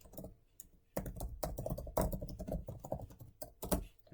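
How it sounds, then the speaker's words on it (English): Computer keyboard typing at close range, with irregular quick keystroke clicks arriving in bursts and short pauses, and no voices. "So I'll just type this in there."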